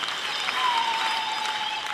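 A church congregation at a Catholic Mass in Dar es Salaam claps steadily, a dense, even wash of applause filling the space for the whole stretch with no talk over it.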